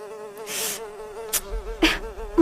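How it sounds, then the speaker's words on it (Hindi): Buzzing mosquitoes in a sound effect, a thin steady whine with wavering pitch that swells and fades, broken by a few short sharper bursts, close and clear with no talk. "उसे काफी ज्यादा मच्छर परेशान करने लगते हैं"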